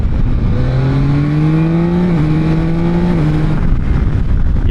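A Yamaha Tracer 9 motorcycle engine rises in pitch under steady acceleration, with quick semi-automatic gear shifts briefly dropping the tone, all loud and close against heavy wind rush.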